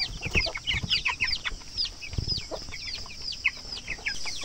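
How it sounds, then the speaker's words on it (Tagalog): Two-week-old broiler chickens on a farm clucking and peeping in a busy, continuous flock chorus, close and lively, with no one speaking. "ito na yung ating mga alagang 2 weeks old broiler"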